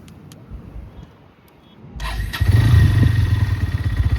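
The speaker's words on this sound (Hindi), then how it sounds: "स्टार्ट करो एक बार बाइक को।" A Bajaj Pulsar N150 motorcycle engine cranks and catches, then settles into a loud, steady idle close by after a few quiet seconds.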